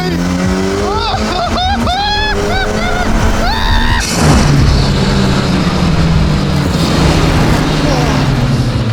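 An Ariel Atom 4R at full throttle in its boost 3 mode roars close by, its engine pitch climbing sharply through several quick gear changes before settling into a loud, sustained rush of engine and road noise.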